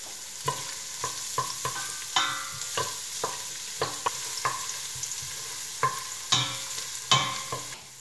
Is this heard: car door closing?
no